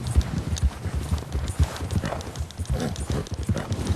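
Horse hooves clip-clopping at a steady trotting rhythm on a trail in Red Dead Redemption 2, close and distinct, with faint tack jingle and no talk.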